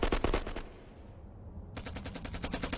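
Rapid automatic gunfire from a Hindi war film set around a bunker: loud bursts of machine-gun shots, a brief lull, then another sustained volley close by.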